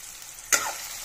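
Chopped onion, tomato and garlic with salt frying in a pan, a quiet background sizzle broken by one sharp stir or scrape midway, then an even hiss.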